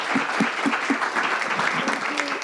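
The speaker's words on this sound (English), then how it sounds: "a big clap to them" A conference audience claps, brisk and steady, filling the hall.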